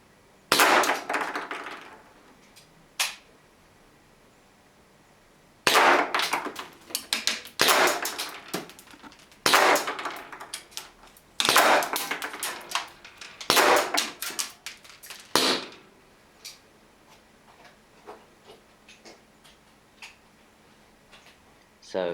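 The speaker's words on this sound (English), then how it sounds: "we're going to shoot 12 shells of the shot shell variety at the target" Shot shells fired from a Webley revolver at a target, a series of sharp loud cracks in quick clusters with brief pauses between, followed by a quiet stretch.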